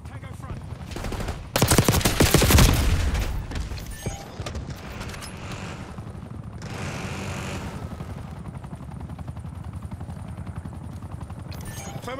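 A watchdog attack helicopter in Call of Duty firing overhead, with a loud burst of rapid gunfire, then rattling rotor and distant shooting continuing, with voices briefly talking.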